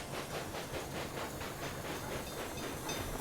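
Trains arrive at a Boston station in the video game Railway Empire 2, giving a steady, rhythmic clickety-clack rumble with hissing over it, quiet and continuous throughout.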